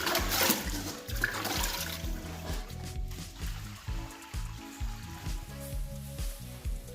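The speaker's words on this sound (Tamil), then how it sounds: "இப்போ மிஷினை நல்லா தண்ணி விட்டு வாஷ் பண்ணிடலாம்." Water rushes through milking machine tubes being rinsed out on a dairy cattle farm, an early gush settling into a steady, rhythmic pulsing throb with trickling underneath.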